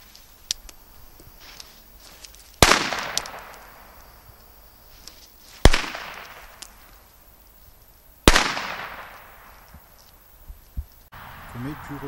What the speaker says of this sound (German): Weco China Knaller mit Corsair Logo.